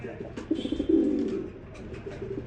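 A red and a yellow pigeon coo together, giving one drawn-out, throaty burst of cooing up close that fades into softer murmurs, with no speech.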